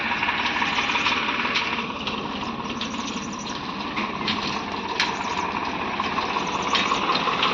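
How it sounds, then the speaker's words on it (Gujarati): A tractor engine drones steadily on a farm field as the tractor approaches, holding a constant loud rumble throughout. "આવી રીતે ટ્રેક્ટર જો આવી રહી છે"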